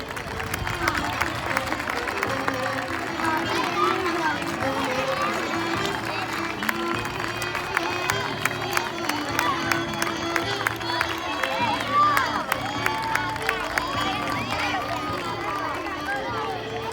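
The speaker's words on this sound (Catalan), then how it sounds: "Fort aplaudiment pels nens i nenes que han fet de donzelles" Sustained applause and cheering from an audience of children and families at a school performance of the legend of Saint George, honoring the children who played the maidens; steady dense clapping with crowd chatter throughout.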